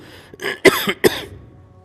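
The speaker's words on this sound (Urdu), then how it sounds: "جب کھانسی آ رہی ہو نا" Two sharp coughs in quick succession, close and fairly loud, with a softer throaty rasp between them and quiet afterward.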